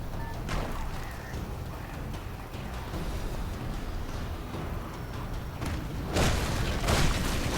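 Gunfire comes from a helicopter in the video game Prototype: muffled booming bursts over a steady rumbling game soundscape, with a heavier cluster near the end.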